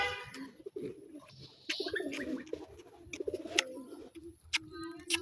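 Giribaz pigeons cooing in a loft, with low, throaty coos repeating irregularly and close by, mixed with soft wing flutters and faint background noises.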